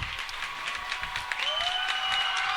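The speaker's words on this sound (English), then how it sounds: "All these Red Wing fans in red are on their feet shouting and clapping" A boys' Class 1 high school basketball quarterfinal crowd of Eminence Red Wings fans in red roars, cheers and claps continuously, loud and dense, with whistles and shouts rising through the din.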